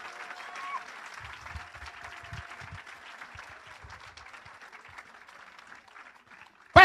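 A church congregation applauding in worship, with steady dense clapping that carries through most of the moment and thins toward the end, while voices call out over it.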